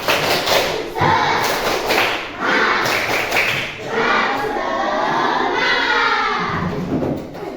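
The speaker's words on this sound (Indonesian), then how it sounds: "Tepuk semangat." A classroom group performs a rhythmic clapping chant, a patterned 'tepuk semangat' routine of quick hand claps and thumps in bursts, with voices chanting along throughout.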